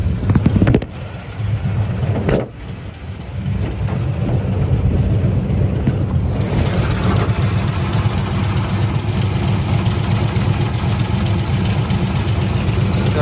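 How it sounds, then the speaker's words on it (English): A 1969 Pontiac GTO V8 idles steadily and smoothly close to the microphone, with a brief louder rev or blip early on and a slightly louder, fuller idle through the second half. "No smoke, no knocking, just a real clean sound, easy starting."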